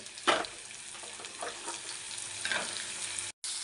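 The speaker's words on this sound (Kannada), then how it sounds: "ಎಲ್ಲ ತರಕಾರಿನೂ ಹಾಕ್ಕೊಂಡಿದ್ದೀನಿ ಇದೆಲ್ಲ ಸ್ವಲ್ಪ ಎಣ್ಣೆಯಲ್ಲಿ ಚೆನ್ನಾಗಿ ಫ್ರೈ ಆಗಬೇಕು" Mixed vegetables and curry leaves fry in oil, making a soft, quiet sizzle with a few brief bursts of stirring, before the sound cuts out abruptly near the end.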